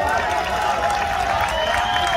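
Crowd applause and cheering ring out at an open-air greasy pole climbing contest during a village palio in Abbiate, a dense steady wash of clapping mixed with voices and a sustained tonal whistle or horn over it.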